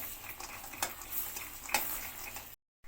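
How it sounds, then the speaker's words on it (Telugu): Cashews frying in butter in a pan, a soft continuous sizzle with occasional light scrapes and taps of a spoon stirring, close and low in level, ending in a brief silence. "సో మనం కాజుని కొంచెం రెడ్డిష్గా కొంచెం వేయించుకుందాము"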